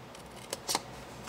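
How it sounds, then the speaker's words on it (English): Scissors snipping pieces off cardstock in a paper-craft box project: two short, close, crisp snips about a fifth of a second apart over quiet room tone, with no voices. "I'm going to take my scissors here and I'm going to snip off those pieces."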